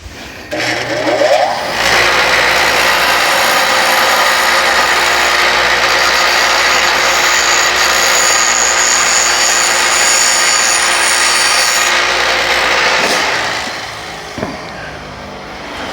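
A power drill whines loudly and steadily for several seconds, grinding into a metal exhaust manifold bolt on a Chevrolet Silverado, then winds down and stops.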